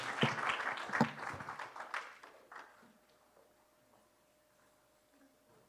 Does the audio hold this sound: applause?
yes